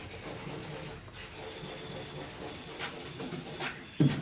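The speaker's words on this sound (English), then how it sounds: "So I've just got a bit of 2000 wet and dry. And I'm just going to go over just this top bulkhead part." Hand sanding the top bulkhead of a Ford XC Fairmont 351 under restoration, using 2000 grit wet and dry paper: a steady, soft, close scrubbing rasp of repeated strokes, with no talking.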